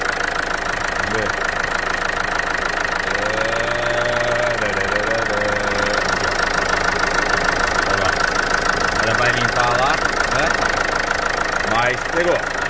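A 2013 Land Rover Freelander diesel engine runs unevenly after an oil filter change, with a steady, knocking rumble throughout. Someone talks over it close by.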